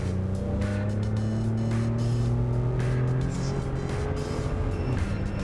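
A tuned Ford F-150 3.5L EcoBoost pickup with an upgraded intake pulls hard from a red light, its drone climbing in pitch through a gear change as it accelerates, heard from inside the cab.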